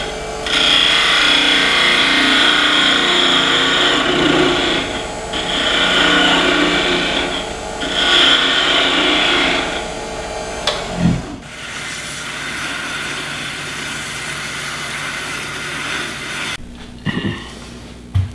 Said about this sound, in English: I'm just gonna go ahead and clean it up and then sand it.